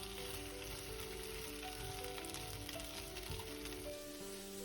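Onions stir-frying in a home kitchen pan, a steady crackling sizzle that runs throughout, close and fairly loud, with no talking.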